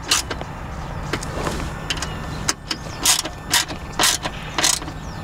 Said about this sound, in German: So, jetzt die vorderen alle festziehen.